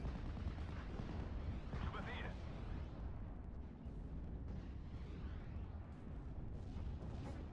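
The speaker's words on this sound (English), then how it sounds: "here I'm bombarding with the heavy artillery, so it's 210mm rounds" Heavy 210mm artillery bombardment in the World War II strategy game Steel Division: Normandy 44: a dense, continuous rumble of booming impacts and battlefield noise, loud and steady throughout with no clear pauses.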